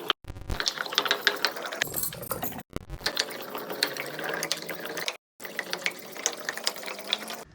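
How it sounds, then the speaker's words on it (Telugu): Onions, green chillies and tomatoes are ground by hand in a stone mortar, making continuous rough grinding and rattling with brief gaps, fairly close and alone. "ఎర్రగడ్డలు, పచ్చిమిరపకాయలు బాగా రుబ్బుకోవాలి."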